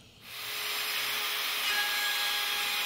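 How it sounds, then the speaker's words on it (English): A plunge router spins up and cuts into a wood panel with a steady high-pitched whine and grinding buzz that stays loud and even after a brief start. "Grab your plunge router and get ready to do a clockwise cut."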